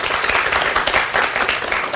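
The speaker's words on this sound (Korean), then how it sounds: "박수로 맞아주세요." A studio audience applauds on a Korean television talk show, a dense, steady wash of clapping from many hands that fills the whole moment without a break.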